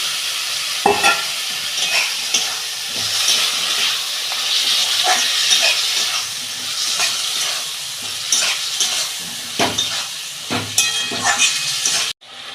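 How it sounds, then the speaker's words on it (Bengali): Vegetables frying in spiced oil for an egg curry, giving a loud, continuous close-up sizzle with repeated scraping stirs that cuts off abruptly at the end. "মশলা কষানো হয়ে গেছে, তেল ছেড়ে গেছে, আমি এই সবজিগুলো দিয়ে দিচ্ছি।"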